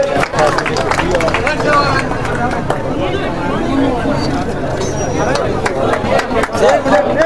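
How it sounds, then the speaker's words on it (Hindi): A crowd at a village political rally in Hasanpur applauds to welcome a family, a dense burst of clapping mixed with crowd chatter and a voice over a loudspeaker, fairly loud and sustained. "तालियां बजाकर पूरे परिवार का स्वागत करें"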